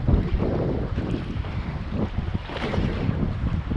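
Strong wind roars and buffets across a fishing boat at sea near Rottnest Island off Perth, with the rush of waves and hull noise underneath, loud and continuous.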